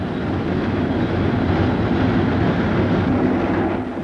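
A freight train runs in Alaska, a loud continuous rumbling roar of engine and wagons rolling along the rails, steady throughout with a faint clatter underneath.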